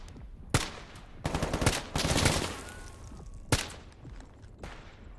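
Gunfire in the game STALKER GAMMA: sharp close shots and a sustained burst of rapid automatic fire, with a lone shot after a short pause and fainter pops trailing off.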